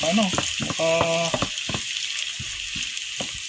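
Onion and garlic sauté in a multi-function electric cooker with a steady, bright sizzle, broken by a few stirring clicks and faint fragments of a voice in the background.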